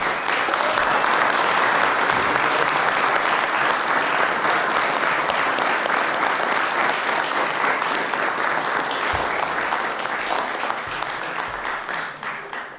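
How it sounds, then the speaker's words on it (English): A city council chamber audience gives sustained, loud applause that fills the whole stretch and tapers slightly toward the end, with no talking over it. "Can you all please stand and give Mateo a round of applause for his accomplishment"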